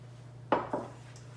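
A cup of fresh, pre-washed blueberries is tossed into a mixing bowl of vegan muffin batter, making two quick soft knocks against the bowl in a quiet kitchen with a low steady hum behind.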